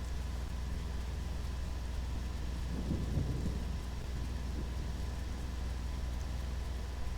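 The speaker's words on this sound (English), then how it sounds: "My lily pals like the sounds of rainfall and thunder." Rain falls in the video game The Isle, a steady hiss under a low continuous rumble, with a deeper roll of thunder swelling briefly near the middle before it fades back into the downpour. No voices are heard.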